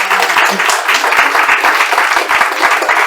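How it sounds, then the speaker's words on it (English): Audience applauds panelists at an evening human rights panel: steady, loud, dense clapping from a full room, sustained throughout with a faint murmur of voices underneath. "Can we have a round of applause for that?"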